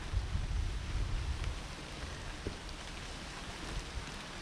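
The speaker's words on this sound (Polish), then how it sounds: "Mill Park żegna nas deszczykiem." Light rain patters steadily at a caravan and camping site in North Devon, a soft continuous hiss with faint scattered drops and some low wind rumble at the start.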